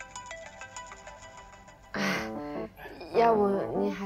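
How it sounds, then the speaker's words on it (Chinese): A phone ringtone plays a melodic, repeating electronic tune at moderate volume indoors, joined partway through by louder bursts of music and a voice speaking over it. "要不你还是先接电话吧。"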